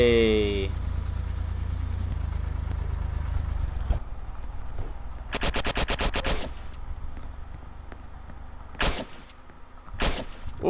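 Gunfire in the online survival game Apocalypse Rising, a few short bursts of shots standing out over a steady engine drone from a vehicle, with the middle burst the longest and two brief later bursts.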